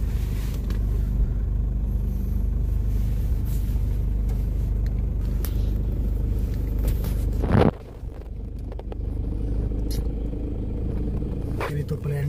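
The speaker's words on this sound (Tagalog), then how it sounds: "Sobrang traffic guys." Engines rumble steadily from inside a car stuck in heavy road traffic on a long drive from Manila to Mindanao, with a brief loud swell partway through before the drone settles again.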